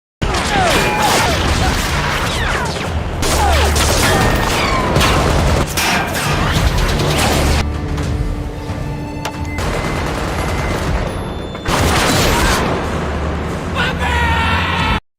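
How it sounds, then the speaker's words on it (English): Gunfire and explosions in an action film shootout where a gang leader's men open fire and chaos erupts: dense bursts of shots and booms with shouting, loud and sustained, with a brief quieter stretch before the barrage resumes. "Kabil quickly orders his men to open fire. And that's when everything explodes into chaos."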